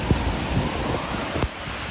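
Floodwater thunders over Snoqualmie Falls after days of atmospheric-river rain, some 20,000 cubic feet per second, heard as a broad, continuous roar with gusts of wind buffeting the microphone.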